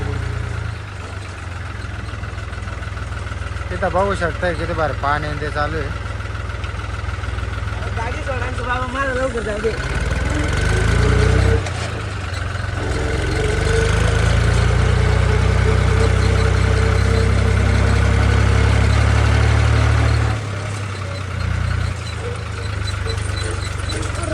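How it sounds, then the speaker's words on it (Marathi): International tractor engine running steadily with a low droning rumble throughout, rising and swelling midway, while people talk over it in the early part. "आता आपला इंटरनॅशनल ट्रॅक्टर घेऊन"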